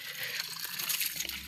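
Water running from a pipe outdoors, a faint steady gushing trickle heard close up with no voices.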